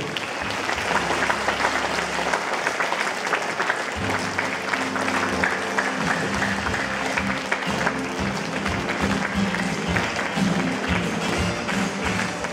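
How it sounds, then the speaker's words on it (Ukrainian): Sustained applause from a large audience at an awards ceremony for Afghan war veterans, steady and dense throughout, with a low rhythmic thumping underneath. "Ваші оплески."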